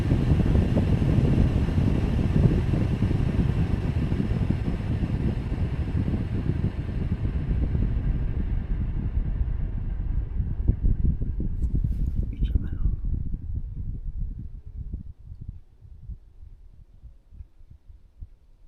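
A steady, low fan hum and soft airflow from a Philips AMF870/15 air purifier fan in sleep mode, fading noticeably quieter toward the end, leaving a faint whir.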